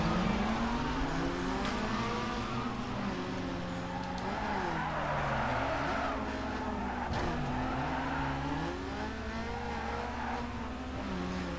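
A car in Need for Speed Underground 2 slides under handbrake, its engine droning steadily while tires squeal in long, wavering skids that rise and fall repeatedly throughout.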